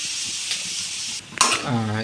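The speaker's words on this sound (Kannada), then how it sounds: "ನಾವು ಇಲ್ಲಿ ಒಂದು ಸ್ಪೂನ್ನಷ್ಟು ತುಪ್ಪ ಹಾಕಿದ್ದೇವೆ ತುಪ್ಪ ಹಾಕಿ ಅದಕ್ಕೆ ಪನ್ನೀರು ಹಾಕ್ಕೊಂಡು" Paneer frying in a spoonful of ghee with a little oil, a steady bright sizzle that drops away briefly before a louder burst of sizzling and stirring clatter from the pan.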